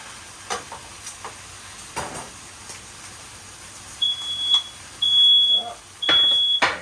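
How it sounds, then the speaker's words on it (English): In a home kitchen where Thanksgiving gravy is being cooked, a smoke alarm sounds three piercing, sustained beeps in the second half, over quiet stirring and sizzling, with brief talk between them. "they're so amazing that I set off the smoke alarm."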